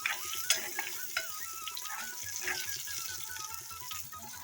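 Quiet sizzling of Indian pennywort (vallarai) greens sautéing in a pan, with a spatula stirring and scraping now and then, close by and fairly soft.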